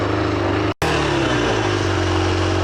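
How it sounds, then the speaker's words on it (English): An air-cooled motorcycle engine idles on choke while warming up in cold weather, a steady close rumble with harmonic drone, briefly cut by a split-second dropout before carrying on evenly. "Oh, the wonders of an air-cooled motorcycle in the cold."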